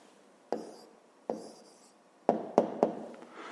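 A pen writing a numerical answer in a maths exercise, heard as five short, close tapping strokes spaced irregularly, with no talking.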